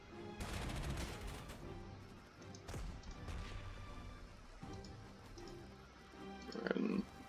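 An attack on an artillery piece in the WWII strategy game Panzer Corps 2 produces bursts of gunfire and crashing impacts, moderately loud, with a few sharp thuds and a brief clatter near the end.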